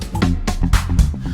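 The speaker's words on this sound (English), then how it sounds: "what we're listening to right now are some great funk tracks playing in FL Studio that we created" Funk backing track generated by the Band-in-a-Box plugin plays in FL Studio, a dense mix of punchy drums and bass hits with busy rhythmic accompaniment, loud and continuous for a brief stretch.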